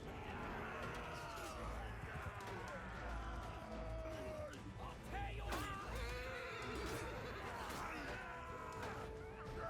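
Horses neigh and whinny amid the clamor of a medieval battle in Mount & Blade II: Bannerlord, with repeated whinnies rising over a dense, steady din of fighting.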